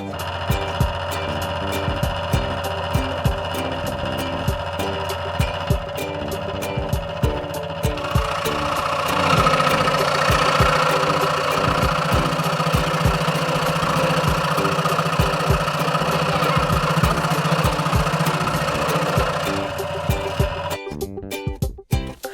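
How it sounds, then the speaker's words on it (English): Scroll saw cutting wood, a steady mechanical motor hum with rapid rhythmic ticking from the reciprocating blade, loud and close. The pitch shifts midway and the blade slows and stops near the end. "We're gonna cut it with the scroll saw."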